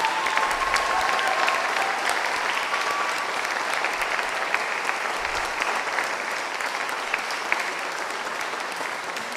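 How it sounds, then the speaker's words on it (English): Sustained audience applause at a Declaration of the Báb commemoration in Ottawa, a steady dense clatter of many hands that holds at an even, fairly loud level throughout without any talk. "Can we please give him another round of applause?"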